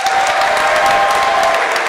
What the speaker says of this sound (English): we are going to give them a huge round of applause